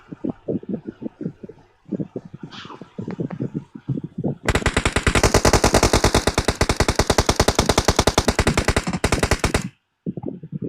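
Rapid automatic gunfire in the PUBG Mobile battle royale game, a long sustained burst of dense, loud shots following choppier bursts of fire, with a player's voice intermittently talking over the action.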